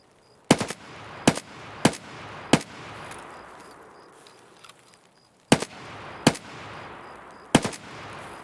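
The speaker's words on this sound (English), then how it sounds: "Shooting at the flashlight always works for everybody else." Gunfire in Escape from Tarkov cracks out as sharp single shots, four in quick succession, then a pause, then three more, loud and close with a short echoing tail.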